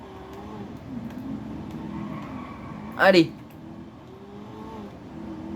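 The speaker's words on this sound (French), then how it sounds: "C'est ce qu'on veut, une voiture qui fonce." A car speeds along with a droning engine that rises and falls, then a sharp burst of tire squeal midway, while a voice speaks briefly.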